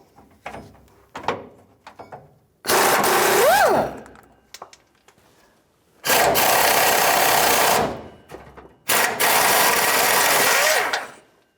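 Impact gun with a 21mm socket driving out a leaf spring shackle bolt on a 1992-1996 Ford F-150, three loud bursts of whirring hammering, each a second or more long, separated by quieter handling clatter.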